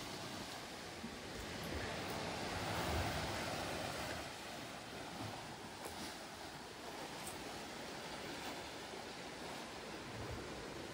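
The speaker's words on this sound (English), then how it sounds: "As we are getting near to the sea, the sound of the waves are getting louder" Sea waves wash steadily onto a quiet beach in Kannur, Kerala, a continuous broad surf roar at moderate level with a slight swell around the third second and no voices.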